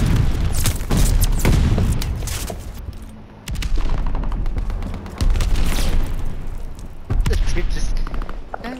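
Repeated booming grenade explosions and bursts of gunfire in a multiplayer shooter game match, loud and close in several dense waves, with players talking over the action.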